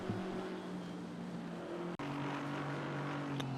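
Aston Martin race car at Spa during a six-hour endurance race, a sustained tonal engine note that holds steady, cuts off for a moment partway through, then resumes at a slightly lower pitch.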